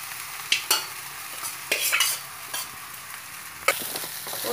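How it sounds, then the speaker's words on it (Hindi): Flattened rice poha being tipped onto fried spices in a pan for kanda poha and stirred, with a continuous crackling sizzle and repeated close spatula scrapes at uneven intervals. "अब इसमें हम पोहे डाल देंगे।"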